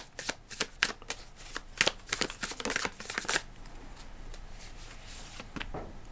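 Tarot cards being shuffled by hand, a rapid series of crisp riffling flutters and slaps for about three seconds, then softer, sparser card sounds, close and clear with no talking.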